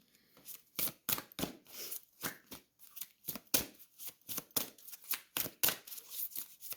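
Tarot cards are shuffled and drawn close up, giving a quick, irregular series of crisp riffling snaps and soft slaps with short pauses, with no talk.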